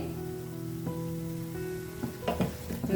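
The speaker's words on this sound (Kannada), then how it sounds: "ಅದನ್ನು ಕೂಡ ಹಾಕಿ ನೀಟಾಗಿ ಫ್ರೈ ಮಾಡ್ಕೊಬೇಕು" Fresh green peas frying in oil in a pan give a steady, close sizzle with a few brighter crackles and spatters toward the end, no voice over it.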